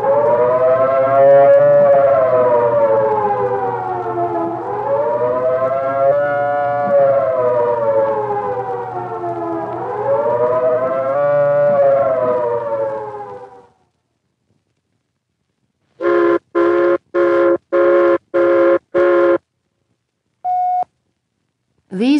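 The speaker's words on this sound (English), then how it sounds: "The second signal is the take cover signal, a 3-minute warbling tone or series of short blasts like this." Civil defense take-cover siren gives a long, loud warbling tone that rises and falls in slow waves, then stops; after a silence come several short, sharp blasts and a final beep.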